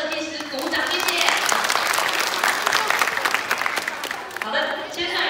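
An audience applauds children's stage performers at an elementary school: dense, steady clapping fills the whole stretch, dipping briefly near the end before swelling again, with voices mixed into the crowd.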